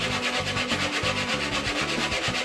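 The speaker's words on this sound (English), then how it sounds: "sand the sheath" Steady back-and-forth scratchy rubbing of sandpaper on a wooden katana sheath, close up, in regular strokes.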